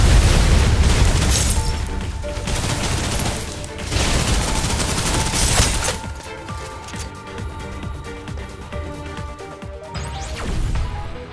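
Suppressive gunfire in the video game Snowbreak: Containment Zone, with loud bursts of rapid shots and booming impacts that come in waves, heaviest at the start and then thinning into scattered reports over a background game score.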